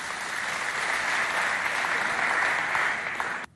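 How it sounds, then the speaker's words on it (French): Sustained, thick applause from a school audience at a student talent contest, a loud, even roar of clapping that holds for over three seconds and then cuts off abruptly. "Ça s'applaudit"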